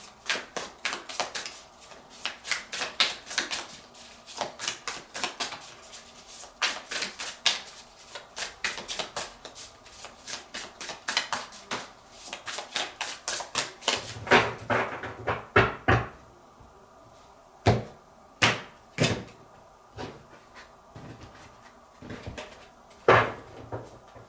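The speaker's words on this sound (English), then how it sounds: "So we're going to pull some tarot cards" Tarot cards shuffled by hand in quick papery riffles and clacks, close and dry, then a few separate sharper taps and slaps with pauses as cards are pulled and laid down.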